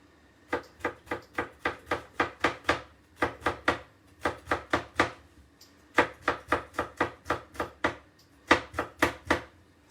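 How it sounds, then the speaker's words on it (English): A kitchen knife chops garlic cloves on a cutting board, close and crisp, in quick rhythmic bursts of five to eight strokes separated by short pauses. "Remember when chopping, always try and rest the knife against your knuckles."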